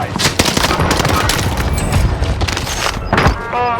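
Rapid gunfire in Call of Duty Warzone on Rebirth Island, dense bursts of automatic shots crackling near and loud almost without pause, with a few heavier thuds and a short electronic tone near the end.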